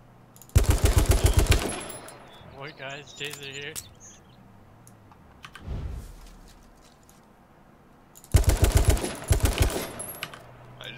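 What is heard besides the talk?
gunfire in a video game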